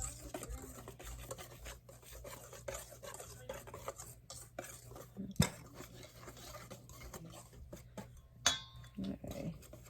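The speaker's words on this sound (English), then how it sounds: "I'm just whisking them with my little whisk here" A small whisk stirs flour and dry ingredients in a bowl, making a soft, continuous rhythmic scraping and swishing, with a couple of sharper clinks of metal against the bowl.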